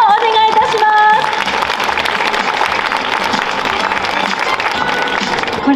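Sustained applause from a sizeable crowd at an award ceremony, dense steady clapping with some tonal music or chimes mixed in at the start.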